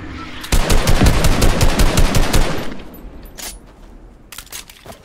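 Rapid automatic gunfire from a gun in Fortnite, a loud close burst of quick repeated shots lasting a couple of seconds, followed by a few scattered fainter shots and clicks.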